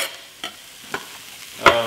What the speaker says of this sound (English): it's basically a stir fry. Onions, garlic, some rosemary, cumin.